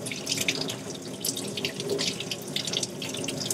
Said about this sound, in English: and then I like to rinse them.